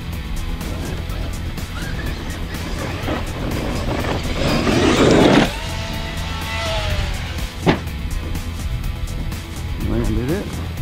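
Traxxas X-Maxx 1/6-scale 8S electric RC monster truck driving and launching off a jump, a steady motor whine with a louder rushing surge midway and a sharp thump as it lands, with voices talking over it.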